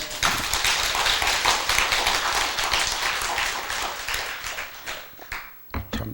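Audience at a Buddhist dharma talk in a temple breaks into sustained, dense clapping that holds steady for several seconds, then thins into scattered claps and fades out near the end.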